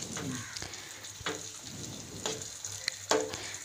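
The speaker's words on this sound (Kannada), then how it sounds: "ಇದರ ಹಸಿ ವಾಸನೆ ಹೋಗೋವರೆಗೂ ಚೆನ್ನಾಗಿ ಫ್ರೈ ಮಾಡಬೇಕು" Tomato paste frying in a pan for paneer masala, a soft steady sizzle with occasional scrapes and clinks of a spoon stirring, close and alone.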